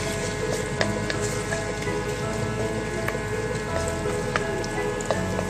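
Garlic sautés in a pan for chicken vegetable spaghetti with a steady, close crackling sizzle. Fine pops and spatters run continuously without pause.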